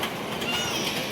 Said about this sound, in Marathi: मेट्रो लईच फास्ट झाली.